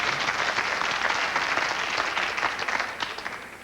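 A comedy show audience applauding in a theater, a thick continuous wash of many hands clapping at fairly close range, easing off slightly toward the end.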